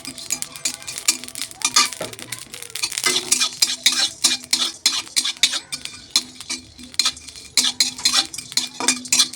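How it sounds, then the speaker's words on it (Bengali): Busy kitchen clatter of a spoon stirring and scraping in a pan, with a soft sizzle of cumin and black pepper frying underneath, steady and close. "এই যে জিরে গোলমরিচ এখানে ভাজা চলছে"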